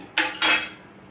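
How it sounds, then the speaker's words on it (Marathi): Two quick clinks sound as muskmelon pieces drop into a glass of melon juice, close and bright, then quiet. "आता आपण खरबूजचे वरून तुकडे घालत आहोत"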